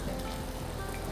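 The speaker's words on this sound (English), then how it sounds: "Look at that sizzle." Jeju black pork belly sizzling on a Korean barbecue grill, a brief, soft crackling hiss of fat frying, close and quiet with no voices.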